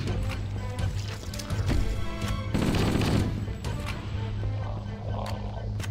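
Enemy gunfire aimed at the player in Halo: Combat Evolved, a dense, continuous barrage of rapid shots and impacts that swells around the middle and carries on steadily beneath a low game hum.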